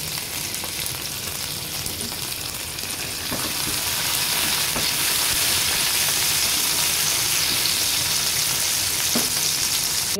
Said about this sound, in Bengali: দেখেন, এখন এর ভিতর চিংড়ি মাছ দিয়ে দিয়েছি। এটাকে ভালোভাবে ভেজে নিতে হবে।